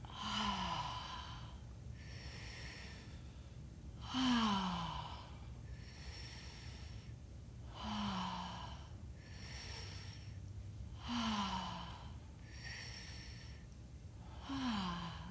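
Slow, deep breaths during a guided breathing exercise, each long inhale and exhale rising and falling in a steady cycle about every four seconds, close and quiet with no talking.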